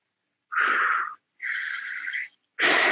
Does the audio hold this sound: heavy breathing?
yes